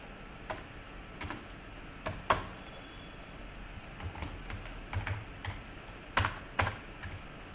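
Someone types PHP code on a computer keyboard, producing faint, scattered clicks and taps at an irregular pace over a quiet room hum, with a few sharper keystrokes and no speech.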